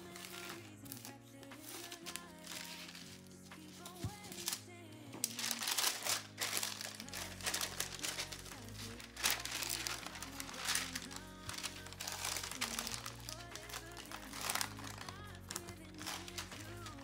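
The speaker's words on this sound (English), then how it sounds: "we're just gonna go through with some parchment paper and we're just gonna make sure this glitter is nice and flat" Parchment paper pressed and smoothed over glitter on a tumbler gives soft, steady crinkling and rustling throughout, mixed under loud continuous background music with sustained chords and bass.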